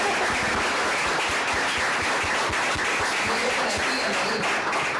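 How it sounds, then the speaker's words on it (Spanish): A book presentation audience applauds for the organizer, a steady, dense wash of many hands clapping close by with no voices over it. "Un aplauso para Ana también,"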